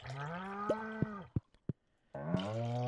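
A cow in the Stardew Valley farming game lets out several loud, drawn-out moos, with short clicks and a brief quiet gap between calls.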